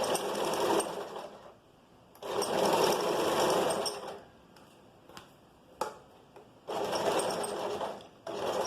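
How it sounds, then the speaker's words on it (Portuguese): Sewing machine stitching a vest, running in three long bursts with short pauses and a quick reverse backstitch to lock the seam, close and steady. "a gente passa um pouquinho do ponto da costura, de onde a gente havia iniciado a costura, deixa passar um pouquinho e dá um retrocesso para finalizar"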